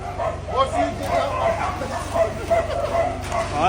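Several dogs yip and bark excitedly in a busy group, close by, with short whimpering calls over steady background noise and people talking.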